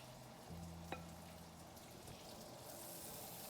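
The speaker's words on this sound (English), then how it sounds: "It should sizzle when you drop them on." Vegetables dropped onto a hot grill for a full English breakfast, giving a steady close sizzle and crackle with a sharp tap of food landing on the surface partway through.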